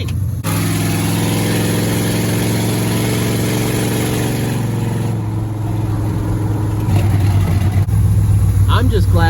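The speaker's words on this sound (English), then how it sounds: "It idles up a little high, but you know, it does the thing." A cheap beater race car's engine idles a little high, a steady loud rumbling drone close by with a slight rise near the end.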